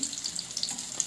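Tangra fish frying in hot oil, giving a close, steady crackling sizzle with small bursting pops throughout a brief stretch, no voices.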